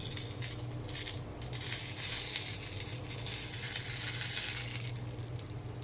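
Prawns wrapped in banana leaf fry in oil, giving a steady, soft sizzle with faint crackles and occasional light scraping of a utensil, fairly quiet and unbroken.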